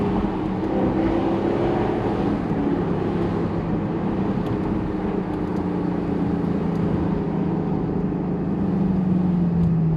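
Lexus LC Cabriolet V8 pulling hard, a continuous loud engine roar with rising tonal sweeps as revs climb, heard steadily from close by without speech.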